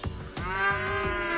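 A cow mooing as a sound effect: a single sustained, loud moo with a rich tonal drone that holds steady to the end.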